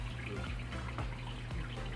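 Water pours steadily from an open tap into a washing machine, a continuous splashing hiss at constant level with faint mechanical hum beneath, no talking.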